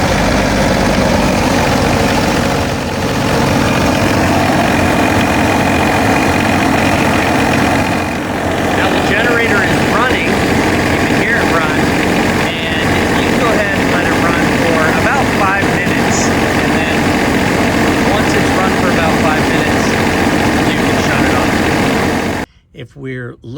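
An RV generator engine runs steadily and loudly throughout, a continuous idling drone that cuts off near the end, with a person talking over it.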